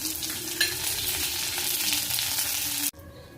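Mustard seeds crackle and sizzle loudly in hot coconut oil, a dense steady spitting that fills the pan with one sharp pop, then cuts off abruptly near the end.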